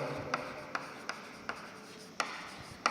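Pen writing a journal entry by hand on paper, a soft continuous scratch broken by about seven sharp taps and strokes at irregular intervals, close and fairly quiet.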